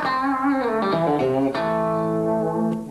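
Electric guitar on a five-position switch set between pickups gives a hollow, out-of-phase tone as a melodic phrase of sliding, bending notes plays. Sustained and close, with no talking.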